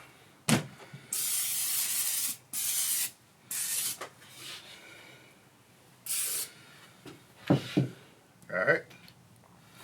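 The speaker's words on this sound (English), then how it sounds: "First thing I'm gonna do is hit it with my binder. Which today I'm using a little spray oil." Short bursts of spray oil hiss onto raw pork spare ribs as a seasoning binder, several quick sprays spaced unevenly, close and clear, with soft handling knocks between them.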